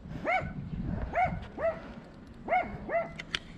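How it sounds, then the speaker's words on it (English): A small dog barks five times in short, high yaps, close by, with brief pauses between them. "This little one just following us and barking."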